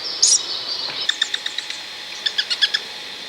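Owls call in a tree in Western Siberia on the way to Yamal, a quick run of short, high chirping notes that grows denser toward the end, heard alone at close range.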